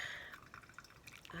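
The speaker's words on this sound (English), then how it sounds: "So I'll just let you watch and listen to the sound of coffee." Brewed pour-over coffee dripping and trickling into a cup, a soft, steady patter of small drops heard close up with no talking.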